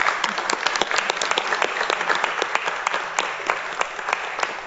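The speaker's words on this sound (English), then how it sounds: "Because you deserve a round of applause as well." An audience at a city council special meeting applauds the parents, a dense, steady burst of many hands clapping that holds at an even level for about five seconds with no talk over it.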